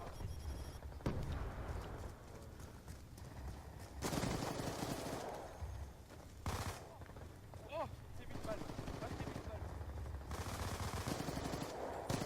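A submachine gun fires in a Black Ops 2 multiplayer match. Repeated bursts of rapid shots mix with other game sounds at a fairly low level throughout.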